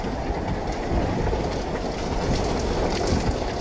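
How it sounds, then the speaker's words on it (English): Rain and thunder of a powerful storm over a harbour in Massachusetts, a dense, loud, steady roar of heavy downpour and wind with deep rumbling underneath, continuous throughout and with no voices. "footage of a powerful storm that rapidly descended on a harbour in Massachusetts"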